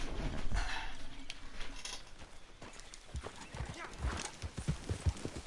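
A horse's hooves clip-clop in the Red Dead Redemption 2 game world, uneven thuds growing more distinct in the second half, with faint neighing and a voice speaking.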